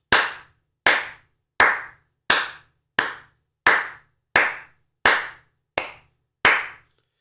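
Ten single hand claps ring out one at a time at a steady, slightly uneven pace, each sharp and close with a short room decay and silence between.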